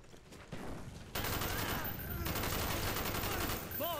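Rapid gunfire in Call of Duty: Black Ops starts quietly, then bursts into loud sustained automatic fire with overlapping shots, close and continuous, with a faint voice mixed in.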